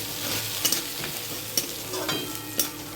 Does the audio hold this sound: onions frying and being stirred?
yes